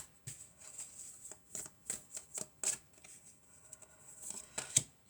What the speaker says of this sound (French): On va prendre encore quelques cartes, on va voir.